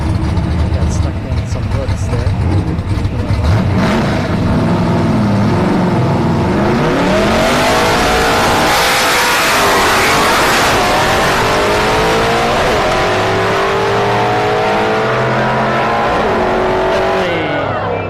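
Drag race cars at a no-prep event at Orlando Speed World roar loudly as they accelerate, engines climbing through rising revs in a sustained pass, with people talking and shouting over the noise.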